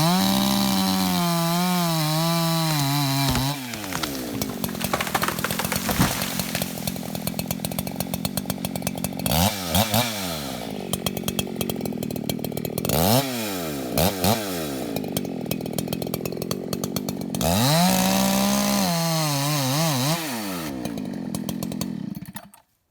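Chainsaw felling a big leaning tree: the saw runs loud and close with sustained whine, repeatedly revving up and down in sweeping pitch bends through the cut, then cuts out near the end.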